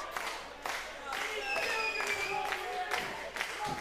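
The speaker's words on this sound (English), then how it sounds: "Asylum making a joke of the fans clapping along with them." Wrestling fans at the Bolton Fairgrounds clap along in a rhythmic, scattered way from a crowd, heard under lively talk and crowd noise.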